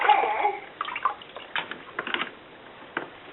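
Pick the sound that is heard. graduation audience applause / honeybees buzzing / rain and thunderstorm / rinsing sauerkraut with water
rinsing sauerkraut with water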